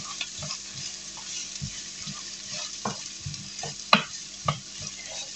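Chicken pieces browning in a hot frying pan for chicken basquaise, with a low steady sizzle and scattered utensil clicks and taps, one sharper knock near the end, no talking.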